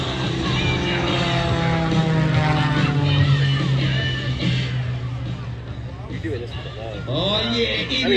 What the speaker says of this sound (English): Oh yeah, it is a beautiful plane.